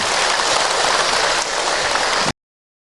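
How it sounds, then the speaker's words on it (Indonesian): Audience applause at an Islamic lecture by Ustaz Hilman about qurban sacrifice: a loud, dense wash of many hands clapping continuously, then cutting off abruptly. "Tepuk tangan untuk kita semua"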